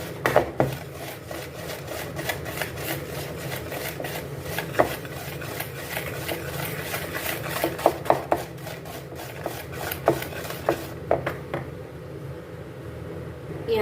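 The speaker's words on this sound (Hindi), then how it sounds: "इसको हम अच्छे से मिक्स कर लेंगे।" Ghee being worked into biscuit dough in a bowl, a steady run of rubbing, scraping and soft knocking strokes close up, irregular taps through most of the stretch before it thins out near the end.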